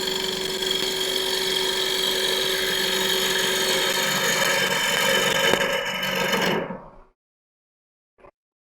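Wood lathe gouge cutting a turned bowl, riding the bevel: a steady, loud, rough whirring hiss with a constant motor hum that runs for about seven seconds, then fades abruptly to silence, followed by one brief faint knock.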